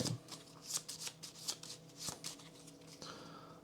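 A deck of cards riffled and shuffled during a tabletop board game, crisp papery bursts repeating in quick succession close by, with no talking.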